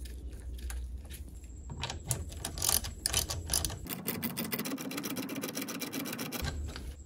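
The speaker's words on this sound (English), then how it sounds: "Next, install your washer and screw on your 7/16 nut." Close ratcheting clicks come as a 7/16 nut and washer are run down onto the shift cable stud of a Mercruiser Alpha outdrive, fast repeated ticks over a low background hum.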